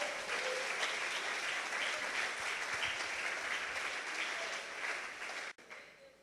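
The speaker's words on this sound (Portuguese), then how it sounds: "Aleluia, aplauda ao Senhor." A church congregation claps together during a worship service, a dense, steady wall of applause that holds for several seconds before breaking off abruptly near the end.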